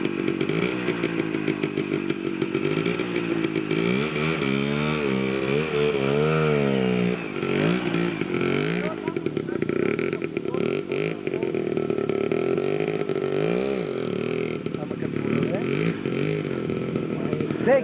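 A motorcycle engine revs repeatedly close by, climbing and falling in pitch with a rough buzzing tone, and people talk over it.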